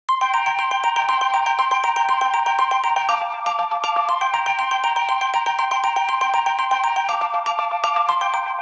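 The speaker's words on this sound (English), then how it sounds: "there's also like a keys synth kind of lead thing going on" A bright, bell-like keys synth lead processed through Ujam UFX filter and delay effects plays a quick repeating melodic pattern of short plucked notes, steady and loud, with no voices.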